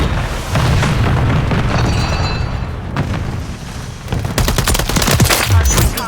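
Gunfire in a Modern Warfare III multiplayer match: dense bursts of automatic fire and heavy booms, loud and close, with a brief lull partway before sharp cracking shots resume.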